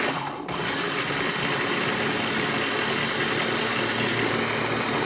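Steady, loud motor whir of a blender or grinder pulverizing granulated sugar into powdered sugar for three-ingredient butter cookies, a continuous even drone that carries on without pause after a brief dip at the start.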